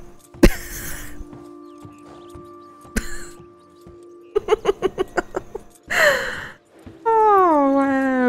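A horse in the Red Dead Online video game: a sharp snort and breathy blows, then a run of rhythmic whinnying pulses and a long falling neigh, close and clear against a quiet background.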